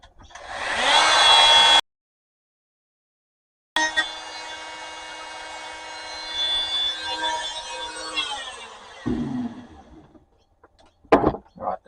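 An oscillating multi-tool blade cuts in a workshop, giving a loud, close, high-pitched buzzing whine in two bursts separated by a silent gap. A few short knocks and clatters follow as the tool stops.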